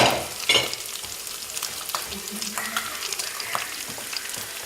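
Steady sizzling of curry paste frying in a hot pan, with occasional scraping and stirring sounds close by.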